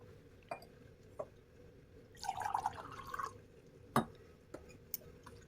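Hot water is poured into maize flour in a bowl to make dough, a short, soft splashing pour lasting about a second. Faint drips and light clinks come before and after it in a quiet kitchen.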